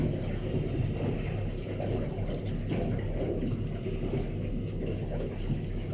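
A 24-foot Edge Sport boat accelerates toward plane on open water, its engine roar and rushing water forming a loud, constant wash with wind buffeting the microphone.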